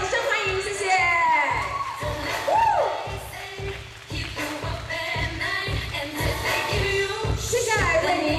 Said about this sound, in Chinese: 掌声欢迎